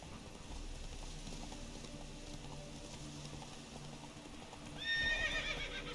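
Roach the horse in The Witcher 3 (Hearts of Stone) trots with a steady, muffled clip-clop, then lets out a loud, close whinny near the end over the game's ambient background.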